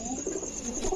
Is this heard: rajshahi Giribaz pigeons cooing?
yes